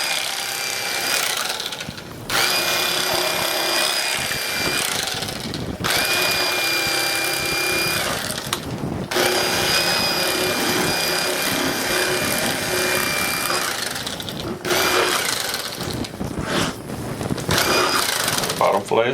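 An electric knife fillets a flounder, its motor buzzing loudly and close in long runs broken by brief pauses as the blade rocks back and forth through the fish.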